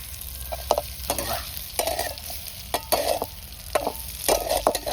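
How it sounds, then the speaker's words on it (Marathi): Soybeans fry in oil in a pan while being stirred, a steady close sizzle broken by repeated scraping stir strokes at an irregular rhythm, with no talking. "आता ही सोयाबीन चांगली तेल टाकून तळून घ्यायची"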